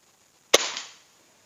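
A single sharp, muffled shot from an air rifle with a Neo Gorilla suppressor pops once and fades quickly, alone in quiet surroundings.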